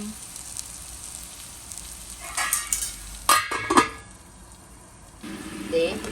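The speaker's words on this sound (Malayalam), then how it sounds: "ഒന്ന് വഴണ്ട് വരുന്നവരേക്ക് നമുക്കൊന്ന് അടച്ചു വെക്കാം" Tomatoes sautéing for chicken kuruma in a covered pan give a soft, steady sizzle with a few louder clattering bursts near the middle and a brief faint voice near the end.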